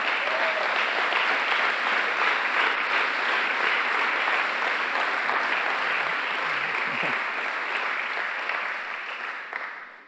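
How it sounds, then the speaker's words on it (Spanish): Loud, sustained applause from a church congregation at a Sunday morning service, dense continuous clapping that holds for about ten seconds before tapering slightly at the end. "Dale un fuerte aplauso a Jesús por eso."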